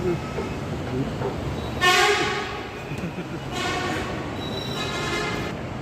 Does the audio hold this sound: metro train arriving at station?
yes